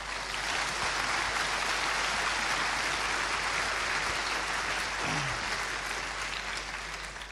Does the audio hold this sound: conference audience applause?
yes